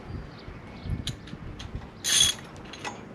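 Socket wrench ratcheting on long bolts of a 1966 Ford Mustang 289 short block: a few short, quiet clicks and knocks with one brief louder metallic burst partway through, no talk.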